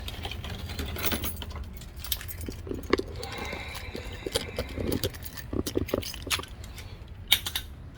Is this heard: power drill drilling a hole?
no